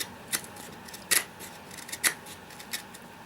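A knife blade shaves and trims at the notch of a wooden bow drill fireboard in cold weather, giving short, sharp scraping cuts spaced irregularly, close and quiet, with no voice.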